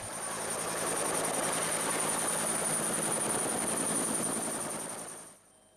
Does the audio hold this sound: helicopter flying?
yes